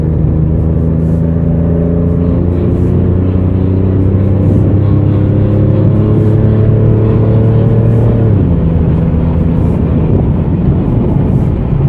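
A custom-built 1994 Chevrolet Camaro coupe accelerates hard on an open road, its engine droning loudly and climbing steadily in pitch through a long pull, then dropping sharply at a gear change before building again.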